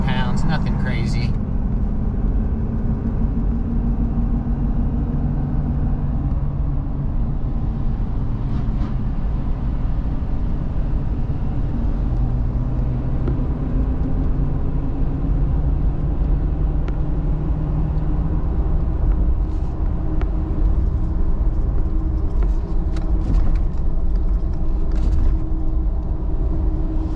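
A 2020 Ford F-350 with the 6.7 Powerstroke diesel tows an empty ultra-wide-deck trailer up a freeway grade, giving a steady low engine and road rumble throughout, with someone talking over it.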